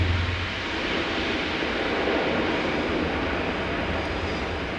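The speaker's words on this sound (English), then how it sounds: "into land, the Airbus A400M, the Atlas" An Airbus A400M Atlas military transport comes in to land at an air show, a broad, continuous roar of turboprop engines and rushing air, loud and steady without pauses.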